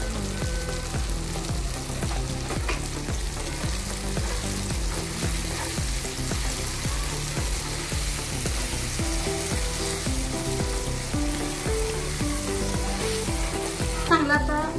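Sweet corn kernels frying with turmeric and salt for chivda, a steady continuous sizzle with some stirring, under background music that plays throughout.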